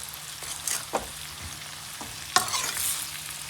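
Carrot pickle sizzles in a pan over a low gas flame as it is stirred, a soft continuous fry broken by a few sharp spoon scrapes and knocks.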